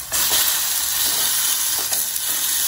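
Pork burgers with cheese, oregano and garlic sizzle in olive oil on a camp cook table at a Jeep tailgate in Bryce Canyon, Utah, a close, steady hiss and crackle of frying with no talking.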